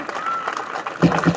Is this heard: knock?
no